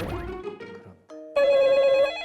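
A telephone rings with steady electronic tones, a brief chirp followed by a louder sustained ring, announcing an incoming opinion-poll call before an election.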